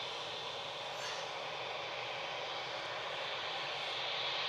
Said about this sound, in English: Qatar Flight 22 heading back to Doha now. A7 BHG 787-9 Dreamy.